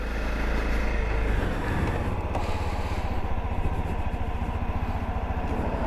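A Honda CRF250L motorcycle runs on a ride in Louisiana, its single-cylinder engine putting out a steady, fairly faint low pulsing beneath wind rush, with no talk.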